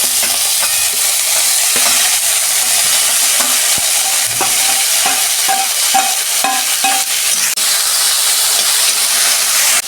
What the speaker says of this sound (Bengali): ওই তেলে আমি উচ্ছেগুলো ভেজে নিচ্ছি।